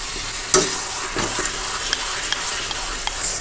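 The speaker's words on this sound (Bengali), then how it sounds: "এখন দেখো সব মশলা কষাচ্ছি" Spices are sautéed in a pan for a meat curry, a close, steady frying hiss with repeated scraping strokes of a spatula through the mixture and no speech.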